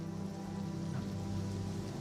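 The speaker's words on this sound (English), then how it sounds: "out through the door, into the rain, which Dar-Lei quite enjoys" Steady rain falls continuously in the video game Oblivion Remastered, a dense even hiss of drops on surfaces with no voices over it.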